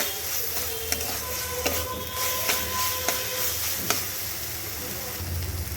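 Bitter gourd stirred in a frying pan over low heat, a steady sizzle with sharp scraping clicks of a spatula against the pan at intervals.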